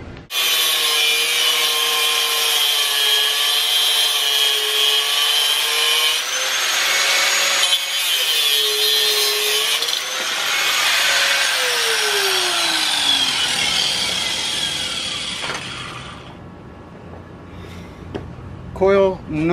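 A power tool grinds and cuts steadily through a metal coil spring, its pitch shifting as the blade bites, then winding down near the end.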